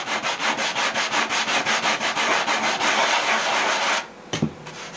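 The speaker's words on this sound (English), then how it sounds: "I'm going to take some 80 grit, grind it down." Rapid rhythmic scratching of 80 grit sandpaper grinding down a protruding toothpick glue joint on a model aircraft wing, steady close strokes for about four seconds, then stopping with a light knock.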